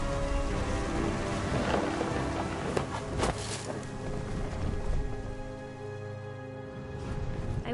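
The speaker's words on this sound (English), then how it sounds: "Thunder sounded much too close and full of angry power." Heavy rain with rumbling thunder in the video game What Remains of Edith Finch, a steady dense downpour with a low continuous roll and occasional sharper cracks, no voices.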